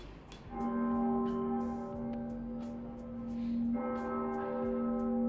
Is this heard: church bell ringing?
yes